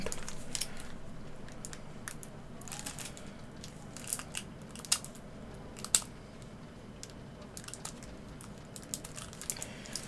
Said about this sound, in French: on va tout simplement prendre les ciseaux